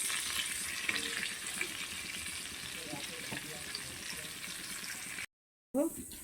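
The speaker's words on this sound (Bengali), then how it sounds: "এখানে চার পিস ইলিশ মাছ আছে এটাও হালকা করে ভেজে নেব" Four pieces of hilsa fish fry lightly in a pan with a steady, close sizzle of hot oil that carries on without talk, broken by a brief dropout near the end before the crackle returns.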